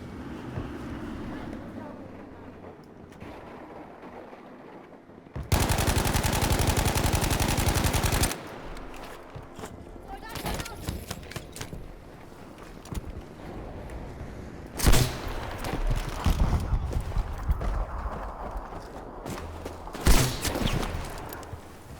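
Sturmgewehr 1-5 assault rifle firing during a recoil test in Battlefield 5, a loud sustained automatic burst followed by more bursts and scattered game explosions and effects.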